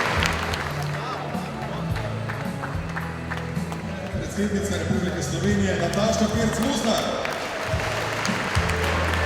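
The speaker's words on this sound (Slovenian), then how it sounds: "Iskren aplavz" Applause at the opening ceremony of the new Carthago factory in Ormož, a crowd clapping over a rumbling background while an announcer speaks over it through a loudspeaker.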